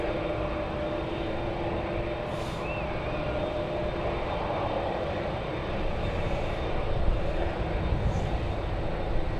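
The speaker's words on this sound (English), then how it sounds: "This one, Korean 24, heading off to Seoul" A Korean Air Boeing 787-10 departs for Seoul, its engines a broad, steady distant roar that swells slightly toward the end, heard alone.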